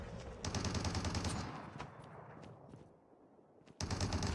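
Rapid automatic AK117 rifle fire from the video game Call of Duty Mobile, a dense rattling stream of shots that fades, pauses briefly, then bursts back in loud and close.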